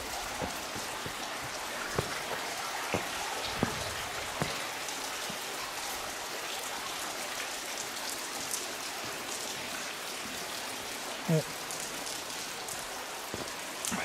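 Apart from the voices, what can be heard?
small waterfall flowing on bush trail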